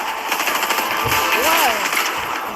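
Rapid bursts of automatic gunfire in Fortnite, loud and sharp, with whooshing game effects mixed in and a voice talking over the shots.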